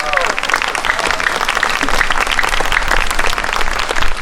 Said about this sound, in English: one more round of applause for Mr. Roger Espinoza, our guest soloist tonight